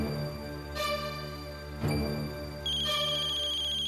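A telephone ringing in a drama scene, with three repeated electronic ring bursts sounding close and clear over a faint room background.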